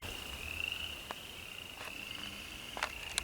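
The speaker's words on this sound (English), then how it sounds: "Those frogs are croaking." Frogs croak in a chorus at a backpacking camp near Rock Knoll outside Pocatello, Idaho, a steady high trill with sharper calls cutting in now and then, faint and distant with insects in the background and no speech.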